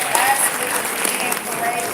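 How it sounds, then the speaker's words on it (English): Audience at a Black LGBTQ-related conference event applauding steadily throughout, a dense wash of clapping from a large crowd, fairly loud and continuous. "Give yourself a round of applause"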